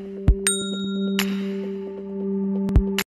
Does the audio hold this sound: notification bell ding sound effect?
yes